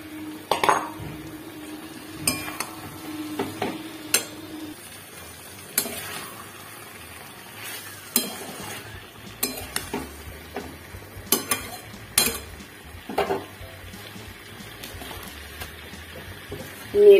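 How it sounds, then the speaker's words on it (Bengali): A spoon scrapes and clinks in a pan while cauliflower and potato curry is stirred, giving sharp intermittent knocks over a low background hum, with no speech. "নেড়ে ছেড়ে ঢেকে রাখবো।"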